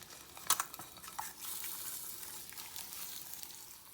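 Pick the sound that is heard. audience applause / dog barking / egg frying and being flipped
egg frying and being flipped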